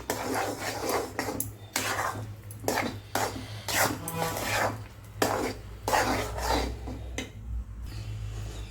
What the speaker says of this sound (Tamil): சிம்மில் வச்சு நல்லா எல்லாத்தையும் நல்லா மிக்ஸ் பண்ணிக்கலாம்